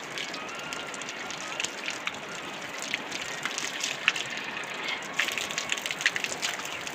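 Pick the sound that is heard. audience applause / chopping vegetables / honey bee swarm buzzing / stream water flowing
stream water flowing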